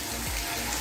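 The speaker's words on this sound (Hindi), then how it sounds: "इसे थोड़ी देर भूनेंगे।" Chicken frying with turmeric, red chili, salt, cumin and coriander powder for haleem, giving a dense, steady, close sizzle with no break and no voices.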